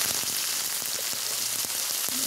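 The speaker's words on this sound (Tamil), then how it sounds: "ஜீரகம், பட்டை, ஏலக்காவை வந்து எல்லாத்தையும் ஒன்றா போடுவோம். நல்லா பொரியுது." Whole spices, cumin seeds, cinnamon bark and cardamom pods, frying together in hot oil for a chana gravy, giving a steady close crackling sizzle with scattered pops and no talking.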